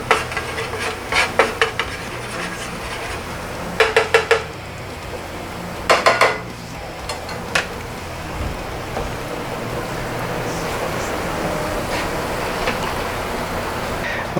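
Salmon goes into a pan with garlic, setting off a steady, close sizzle like light rain, while several sharp clinks of a pan and utensil ring out early on.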